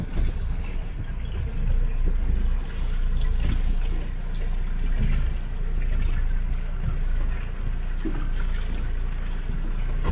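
A boat motor rumbles steadily on the water, with splashing and trickling water mixed into the continuous low drone.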